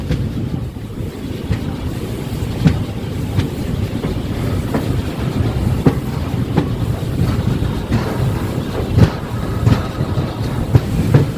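An intercity superfast express train crosses the Netravati bridge near Mangaluru Junction, a steady loud rumble of wheels and carriages with regular rail clicks and wind buffeting close by.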